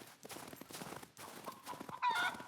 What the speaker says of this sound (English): Killing a chicken will help.